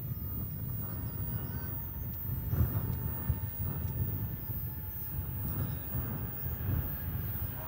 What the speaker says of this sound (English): United Flight 1240 arriving from San Francisco. It's an Airbus A319.